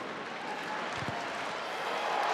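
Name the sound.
crowd cheering at Stade Marcel Michelin rugby match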